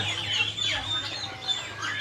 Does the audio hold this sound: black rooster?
yes